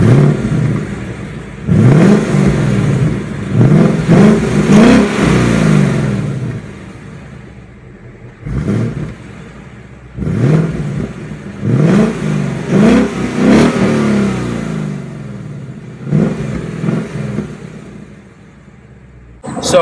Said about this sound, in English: The exhaust just sounds a little bit choked,